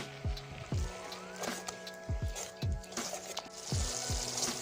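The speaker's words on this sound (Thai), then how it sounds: "ค่ะเคี่ยวพริกแกงกับหัวกะทิ ไปเรื่อยๆนะคะ" Red curry paste simmers with coconut cream over a charcoal stove, giving a soft steady sizzle broken by repeated thick bubbling pops and gentle stirring, close and moderately quiet.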